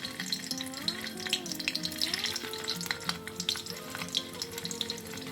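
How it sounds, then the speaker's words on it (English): Paneer pieces fry in hot oil in a pan for a restaurant-style shimla mirch paneer dish, giving a continuous bubbling sizzle with a faint background hum, fairly close and moderately loud. "Now I can fry paneer pieces in this in little at a time."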